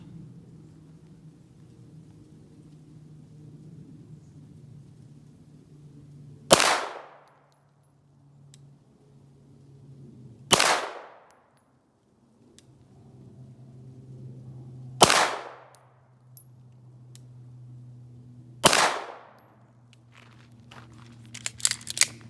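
Four sharp, loud 9mm shots from an STI Edge 2011 pistol fired at a target 15 yards away, spaced several seconds apart, each a crisp crack with a short echoing tail over a low background hum.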